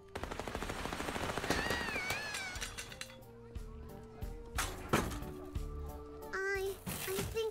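Gunfire with real bullets in the video game Little Misfortune, a rapid burst of shots over game music with a voice talking, followed by sparser sharp bangs later on.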